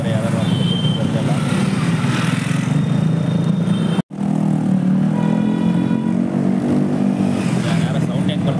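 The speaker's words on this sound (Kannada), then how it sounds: "ಯಾರೋ ಸೌಂಡ್ ಹೆಂಗೆ ಬರ್ತಾ ಇದೆ ನೋಡಿ ಗಾಡಿದು." A loud motorbike engine on a road in Karnataka, roaring steadily close by with traffic noise around it. Someone talks over it throughout, and a brief dropout cuts the sound near the middle.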